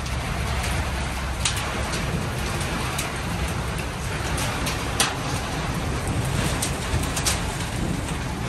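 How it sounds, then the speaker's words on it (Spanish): Hail falls as rain sets in, making a steady, dense close patter with scattered sharper impacts standing out, and faint bird cooing mixed in the background. "Sí, como está cayendo el granizo"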